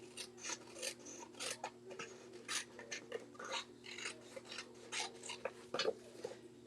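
Paper card trimmed from the back side after the flap is glued and burnished, a steady run of soft scissor-like snips and rasping cuts, close and quiet over a faint steady hum.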